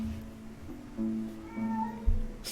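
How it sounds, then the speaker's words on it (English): A pet cat meows indoors: a single drawn-out, rising-and-falling meow in the middle, moderately faint over a low background hum, with a soft thump near the end. "That's my cat shouting out."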